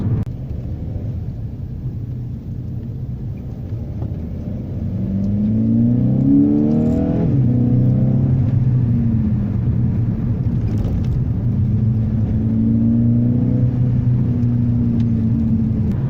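A Seat Ibiza Cupra Bocanegra with a 1.4 engine and 7-speed dual-clutch gearbox accelerates, its engine note rising steadily and then dropping as it shifts, rising again through quick gear changes. The sound is loud and continuous, with road rumble underneath.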